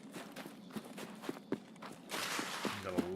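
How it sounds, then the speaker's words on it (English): Footsteps in a video game thud in a steady walking rhythm, fairly close but quiet, and a louder rustling wash rises near the end. "You gotta listen for the footsteps"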